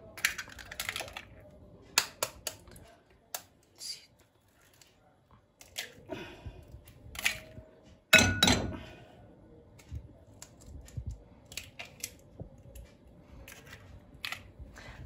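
Five eggs cracked one after another into a pan for a tomato and egg tagine, sharp close taps and snaps spaced irregularly, with soft sizzling and handling noises between them.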